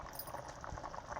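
A pot of taro and egg curry (chamadumpala pulusu) with coriander bubbles steadily, a soft, continuous, close burbling boil with no voices.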